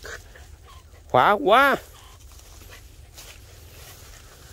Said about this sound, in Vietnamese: Không biết chó nhà, chó hàng xóm nữa.